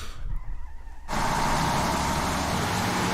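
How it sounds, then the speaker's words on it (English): A loud truck sound effect in the game Yaiba: Ninja Gaiden Z cuts in abruptly after a quieter second, a harsh broadband engine roar that holds steady and dominates to the end. "Wow, that truck sound effect is loud."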